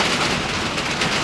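Steady rain heard from indoors during a casual chat, a continuous broadband hiss of drops on a surface filling the short moment without any voices over it.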